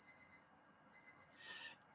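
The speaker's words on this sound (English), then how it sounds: "there is always a timer going off" A kitchen timer goes off somewhere in a house, a faint, distant beeping that repeats in short bursts with brief pauses between them.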